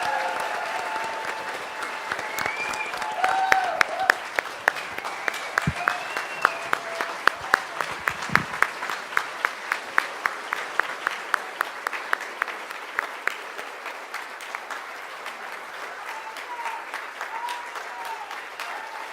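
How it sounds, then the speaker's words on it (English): A conference audience in a hall at a Canada Day event breaks into applause: a sustained, fairly loud wash of many hands clapping, with a few close individual claps standing out, fading toward the end while a voice speaks briefly. "Massive round of applause."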